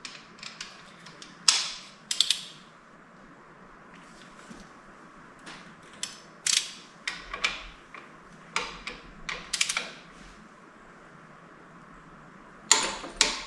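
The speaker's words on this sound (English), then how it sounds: "now we're going to torque it to 62 foot-pounds" A torque wrench ratchets in short clicking bursts while tightening bolts on a 350 Chevy engine during a rebuild. The clicks come close and crisp, spaced irregularly across a quiet background, with a final pair of clicks at the end.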